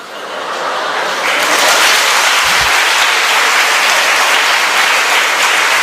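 A large audience claps steadily, the applause swelling in and holding as a dense, even roar.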